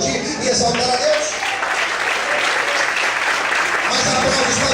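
A church congregation breaks into loud, sustained applause during a worship service, many hands clapping together in a thick continuous roar that stays strong from start to finish, with a soft keyboard tone underneath.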